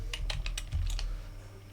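Fast typing on a computer keyboard, a quick burst of around seven or eight sharp key clicks close by, then trailing off into quiet room noise, with no talking.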